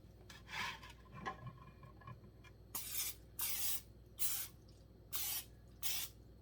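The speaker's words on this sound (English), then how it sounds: "I'm just going to put a little bit of cooking spray around everything so it doesn't stick" Cooking spray hisses from an aerosol can into a pressure cooker in a home kitchen, five short bursts close by after some light handling clatter, with no talking.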